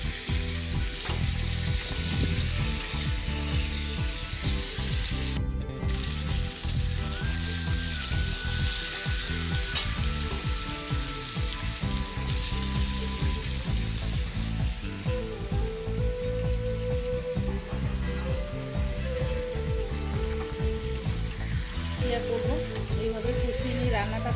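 Meat sautés slowly in a pan with a continuous, moderately loud sizzle, with intermittent clinks and scrapes from stirring running throughout.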